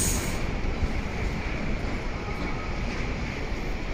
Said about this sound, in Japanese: そしてこの古風な路面電車